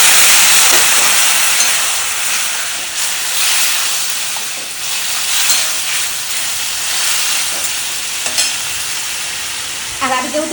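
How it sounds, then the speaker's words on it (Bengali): Spices and a fish head hissing hard as water hits the hot pan, a loud, dense, steamy sizzle that slowly eases and swells again, with stirring scrapes and a clink near the end, no talk. "এবার এটার মধ্যে একটু জল দেবো, মশলার সঙ্গে এই মাছের মাথাটা মিশে যাবে।"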